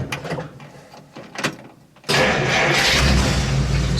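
A 1950s flathead engine in a classic car cranks briefly, then catches and settles into a loud, steady idle that runs to the end.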